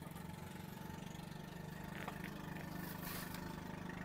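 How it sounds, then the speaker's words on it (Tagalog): A fishing boat's engine runs at a steady, close, throbbing idle with a rapid even pulse, with faint clanks and knocks over it. "Kani bali itong bangka na to, tulo ka makina gigamit."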